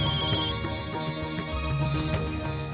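Phone ringtone in a Hindi TV drama scene, a tonal repeating ring at moderate level heard alone over a soft background bed.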